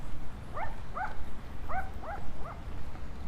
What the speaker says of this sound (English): What the little dog is barking about.